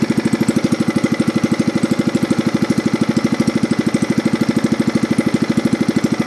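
A Zanma 160 gasoline engine running steadily: a loud, close, even chugging drone with a fast regular pulse and no change in speed, heard alone throughout.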